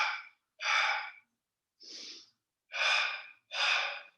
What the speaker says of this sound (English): some of the stronger variations of the Kriya are the double exhale